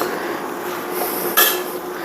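Chicken and noodles tossed in a pan for crispy garlic chicken, a steady low rustle with one brief sharp metallic clink of utensil on pan near the middle, close and alone.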